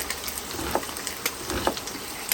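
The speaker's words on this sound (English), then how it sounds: "I'm just throwing in the onion. I just want to saute it off a little bit." Chopped onion sautés with ground chuck in a pan, a close steady sizzle with a couple of soft stirring scrapes over a brief moment, no voices.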